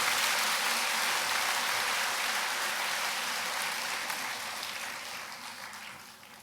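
A church congregation gathered at a spiritual revival meeting applauds, a broad, even wash of clapping from many hands that holds steady and then slowly fades toward the end.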